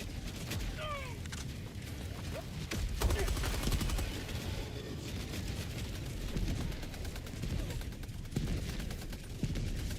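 Sentry gun firing in Helldivers 2, bursts of rapid automatic gunfire and booms layered over battle noise at moderate loudness, rattling on and off throughout.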